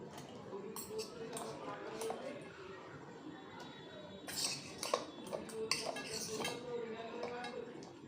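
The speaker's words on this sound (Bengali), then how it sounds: "এই মিক্সি বাউলের মধ্যে আমি এখন এই ফলগুলো সব এখানে আমি ঢেলে দেবো।" Fruit and homemade yogurt go into a mixer grinder bowl, giving a run of clinks and clatters against the bowl that gets busier near the middle, all close by, with no speech.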